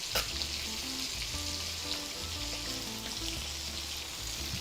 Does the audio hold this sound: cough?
no